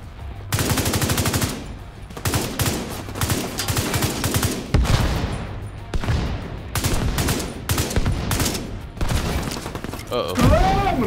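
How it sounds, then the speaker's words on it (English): Rapid assault rifle fire in a video game, loud sustained bursts of automatic shots with brief gaps between volleys, continuing for several seconds. "I'm shooting 100k per shot on my assault rifle"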